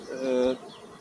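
Honeybees in a hive expanded with a second box give a brief, close buzz that swells for about half a second, then drops away to a faint hum.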